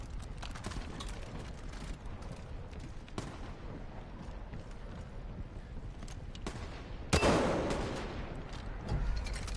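Enemy gunfire in the video game Far Cry 5, a steady stream of rapid shots and crackling fire under a dense rumble, with a sharper, louder burst near the end.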